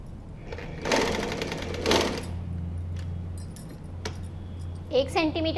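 Sewing machine stitching fabric for a pillow cover, a loud rapid mechanical whir in two bursts followed by a steady low hum, close by, with brief metallic clinks near the end.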